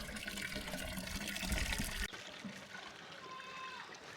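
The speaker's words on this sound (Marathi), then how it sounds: "बघा पाणी भरायला चालू आहे." Water running and pouring as villagers fill vessels from a supply, a steady splashing rush that drops suddenly halfway and continues more softly, with faint background activity.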